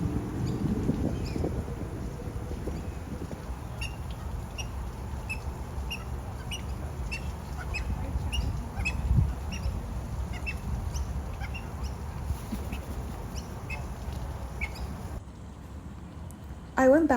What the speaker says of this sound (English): one of the birds that I took a couple of videos of was the incredible ibis